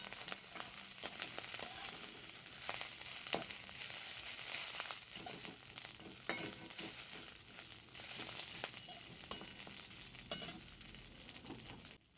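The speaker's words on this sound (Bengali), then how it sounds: "এবার ভালো করে নেড়ে চেড়ে মেথি শাকটা ভেজে নেওয়া হবে।" Fenugreek leaves fry and get stirred in a pan, a steady bright sizzle broken by scraping and rustling strokes as the greens are turned, close and continuous with no talk.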